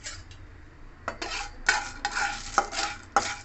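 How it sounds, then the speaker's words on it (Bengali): Green cardamom pods being stirred and dry-roasted in a hot kadai for shahi garam masala. Close, intermittent scraping rattles come in several separate strokes, with no talking. "ছোটো এলাচটাকে একটুখানি আমি কড়াইতে 20 থেকে 30 সেকেন্ড নেড়ে নিচ্ছি"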